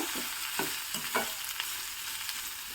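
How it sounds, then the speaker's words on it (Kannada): Green chillies, about five of them, sautéing in a pan for a Dharmastala-style prasada dish, giving a soft steady sizzle with scattered light stirring scrapes and taps, close and fairly quiet, no talking. "ಮೆಣಸಿನ್ಕಾಯಿನ ತಗೊಂಡಿದ್ದೀನಿ ಇದಕ್ಕೆ ಈ ಮೆಣಸೆ ತುಂಬ ಒಳ್ಳೆ ರುಚಿ ಕೊಡೋದು ಇದನ್ನು ಚೆನ್ನಾಗಿ ಬಾಡಿಸ್ಕೋಬೇಕು"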